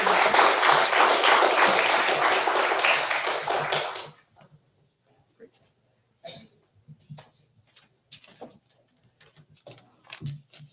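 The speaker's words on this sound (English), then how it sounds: "one more round of applause" Audience applause after a presentation on Idaho's physician shortage, a dense, steady clapping that lasts about four seconds and then cuts off, leaving scattered faint taps and shuffles in a quiet room.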